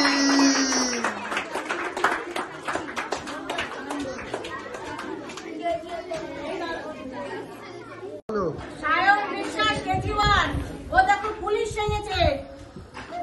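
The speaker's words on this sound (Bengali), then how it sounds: "হাততালি।" A group of children at a Children's Day celebration in an orphanage clap together in a lively, uneven patter, mixed with chatter and an adult voice talking over it.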